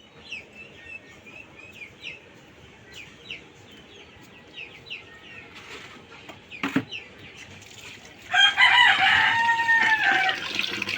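Desi hens on a farm cluck softly and intermittently, then a rooster crows loudly nearby near the end, drowning out the quieter clucking.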